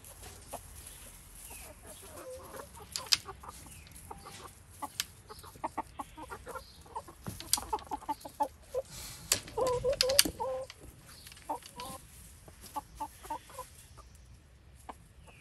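A hen clucks repeatedly in short, irregular bursts, some louder and sharper than others, close to the listener over a quiet farmyard background.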